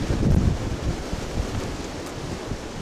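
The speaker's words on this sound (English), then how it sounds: "Pretty windy." Strong, steady wind roars outdoors, buffeting the microphone with low rumbling gusts and a constant broad rush; no one speaks.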